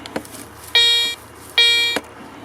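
Two sustained electronic tones from a Garrett Ace metal detector sounding over a buried coin about 28 cm deep during a field test, each lasting under half a second with a pause between, alone over a quiet outdoor background.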